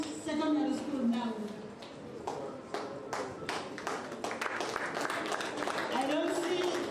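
An awards ceremony crowd applauds a secondary school at a teachers' excellence event, with steady clapping running throughout under a speaking voice on the public address.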